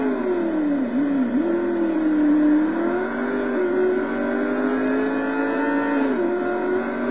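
A GTS race car engine in the Total Immersion Racing video game climbs and drops in pitch through gear shifts, a continuous revving whine running alone.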